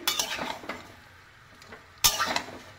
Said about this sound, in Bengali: খুব সুন্দর করে নাড়িয়ে চাড়িয়ে নিতে হবে।